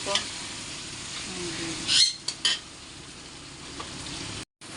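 Fish curry frying in a pan with ginger paste, stirred with a spoon: a steady sizzle broken by a few loud scraping strokes, ending in a brief cut.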